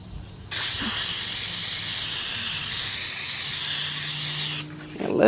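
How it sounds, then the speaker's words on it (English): Adhesive remover sprayed from a shaken aerosol can while a badge is removed from a Corvette Stingray: one continuous loud hiss of about four seconds, with faint quiet handling before and after. "Let's get the adhesive remover, shake it up a little bit."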